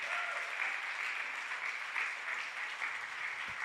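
A church congregation applauding during a worship service: continuous, even clapping from many hands, fairly soft and distant-sounding, sustained throughout without speech.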